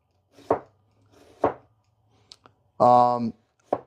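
Knife cutting an onion in half on a cutting board in a home kitchen, a couple of sharp, close chops spaced apart, with someone talking briefly between them.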